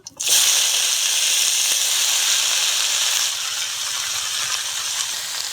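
Spinach hits hot oil over fried mustard-seed tempering for a sour spinach dish with tilapia, bursting into a loud, bright, steady sizzle that settles slightly but keeps hissing throughout.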